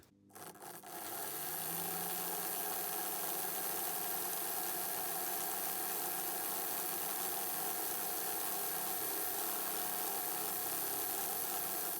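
All-metal 1960s Märklin BR81 model locomotive running on 12V DC, a switch click followed by a steady motor whir and hum that starts up quickly and holds even and quiet without talk.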